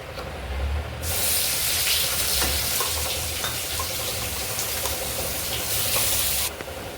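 Ground masala paste hitting hot oil for misal, bursting into a loud broad sizzle that holds steady for several seconds, then cuts off abruptly, close and without talk.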